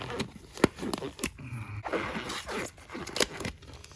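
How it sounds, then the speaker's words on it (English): Textured-grip rubber gloves, bought in a size smaller than usual, are stretched and pulled onto the hands near a car undercarriage job, making close rubbery squeaks, snaps and rustling scrapes in an uneven rhythm, with no speech. "let's see if I can get these on without ripping them apart"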